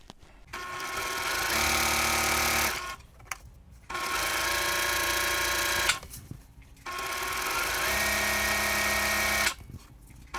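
A sewing machine chain-pieces quilt triangle pieces in three steady, close runs of humming whir, each lasting a few seconds and separated by brief pauses.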